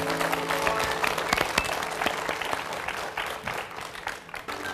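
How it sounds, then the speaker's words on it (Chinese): A studio audience applauds to welcome a guest onto an interview stage, sustained dense clapping that continues steadily before thinning slightly at the end. "现在我们就掌声请郭先生入座"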